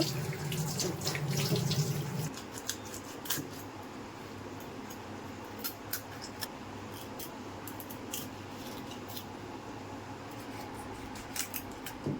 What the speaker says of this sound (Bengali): ইলিশ মাছটা কিন্তু কাটার আগে আমি খুব ভালো করে এখানে আগে ধুয়ে নেব